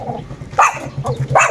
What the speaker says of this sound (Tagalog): Tahol-tahol ka na naman.